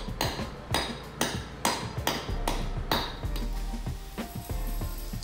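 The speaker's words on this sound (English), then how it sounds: "Further inspection with a hammer reveals there are more hollow spots that are near to or a part of the spall" Hammer taps on a spalled concrete surface to find hollow spots: a series of sharp, ringing strikes at a regular pace, fairly close and loud, thinning into lighter, denser taps toward the end.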